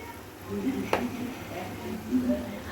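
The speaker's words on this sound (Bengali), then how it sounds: "আমি এখানে ধনে জিরে পেস্ট একসাথে দেড় চামচ দিয়ে দিচ্ছি" Coriander-cumin paste goes into hot oil for a rohu fish curry and sizzles steadily, with one sharp utensil clink against the pan and soft stirring.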